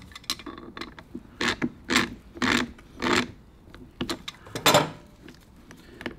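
A chain tool presses a rivet link on an O-ring motorcycle chain during a chain and sprocket change, producing a series of close, uneven metallic creaks and grinding bursts with short pauses between them.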